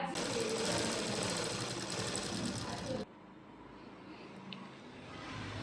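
A sewing machine stitches blouse fabric in a loud, steady, rapid whir for about three seconds, then stops, leaving a quiet room with faint background noise.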